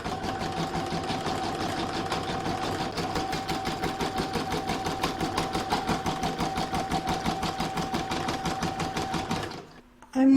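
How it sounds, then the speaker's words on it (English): An embroidery machine stitches the join on a reversible acorns placemat, giving a steady, close, rapid mechanical chatter for about ten seconds before stopping abruptly. "I'm going to pop that back into my machine and stitch round number 6"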